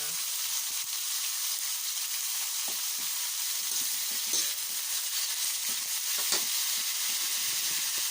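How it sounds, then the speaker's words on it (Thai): Mushrooms stir-frying in a pan give a steady sizzle, with scattered clicks and scrapes of stirring throughout. "เราก็จะมาผัดก่อนเลยนะคะเห็ดจะสุกยากนิดนึง ใส่เห็ดลงไปก่อน"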